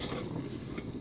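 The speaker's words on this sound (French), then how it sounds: "Ensuite, notre riz est en train de bien griller." Rice toasting in a pan as it is stirred, a steady soft crackle and scrape with faint clinks of a utensil, close and continuous, alone without speech.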